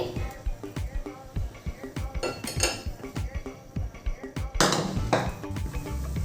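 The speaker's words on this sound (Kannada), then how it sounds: "ನಾನು ಇದನ್ನು ತೆಗೆದುಬಿಟ್ಟು ಇನ್ನೊಂದು ಪ್ಯಾನ್ನ ಇಟ್ಕೋತೀನಿ." Metal cooking pans clatter and clank on a stove while making sabakki payasa, a busy run of sharp knocks, scrapes and rings, with a louder clash near the end as one pan is set down.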